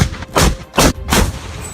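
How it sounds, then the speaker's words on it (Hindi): Tanks firing shells at mock enemy positions at a museum, heard as three heavy booming blasts spaced about 0.4 seconds apart, loud and close, each with a short rumbling decay. "उन लोगों ने टैंकों से दुश्मन के दिखावटी ठिकानों पर गोले दागकर अपनी इच्छा पूरी की।"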